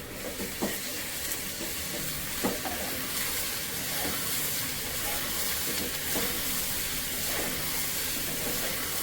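Steady broadband steam hiss rises from a cooking pot of masala curry in a home kitchen, continuous and fairly loud throughout, with faint clinks underneath and no talking.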